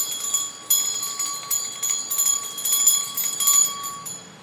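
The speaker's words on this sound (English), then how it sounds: "I'm going to try not to be too loud with the bell." A small bell is rung to clear energy during a tarot reading, giving a series of clear, sustained metallic rings struck repeatedly at close range, each tone lingering and overlapping the next, with no talking.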